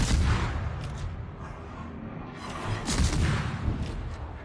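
Naval guns fire at an enemy destroyer during a ranked video game battle, with deep rumbling booms and a continuous low roar of battle noise, heavy and dense throughout.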